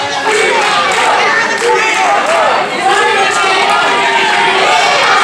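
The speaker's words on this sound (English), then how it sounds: "here comes the crowd, letting their intentions be known" A women's wrestling arena crowd roars steadily, with loud cheering, shouting and chanting voices layered throughout.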